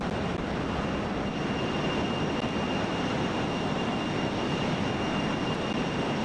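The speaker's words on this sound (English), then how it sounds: "So nice flying an airplane and being able to hear the engines." Fokker F28 airliner engines in MSFS 2024 produce a steady, dense broadband roar with a faint high whine, unbroken and loud throughout.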